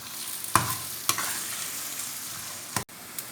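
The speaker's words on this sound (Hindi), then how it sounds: "अब इस प्याज को हल्का सा ब्राउन करेंगे।" Chopped onions frying in a pan, a continuous soft sizzle broken by several sharp stirring scrapes and knocks, close and clear with no talking.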